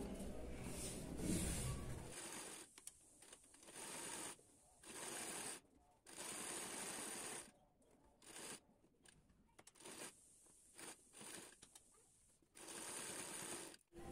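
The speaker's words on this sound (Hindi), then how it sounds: "अब इसके किनारे पे एक एक सिलाई लगाऊंगी।" A sewing machine stitches along the edge of a blouse in several short bursts separated by pauses, fairly faint and close, with handling rustle between runs.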